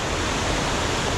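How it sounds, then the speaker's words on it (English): Love Waterfall in Hoang Lien National Park near Sapa, Vietnam, roars as a steady, dense wash of falling water, loud and unbroken with no voices. "This is the most beautiful waterfall, guys."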